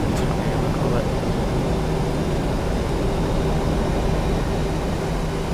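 Jet engines of a PMDG 737 in the FSX flight simulator at about 30% thrust while taxiing away from the gate, giving a steady, loud broadband roar that holds even throughout.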